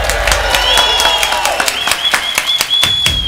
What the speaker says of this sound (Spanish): Un aplauso para María Elvira,